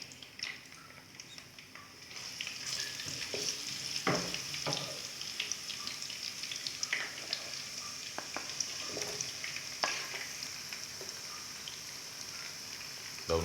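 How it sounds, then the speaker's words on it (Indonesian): Sliced onion sautés in a pan, a steady crackling sizzle with scattered sharp pops and stirring scrapes, close and fairly quiet, with no talking, while a fish curry is prepared. "Tumis bawang bombay."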